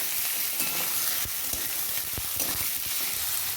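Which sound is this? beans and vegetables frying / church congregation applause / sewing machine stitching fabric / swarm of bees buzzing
beans and vegetables frying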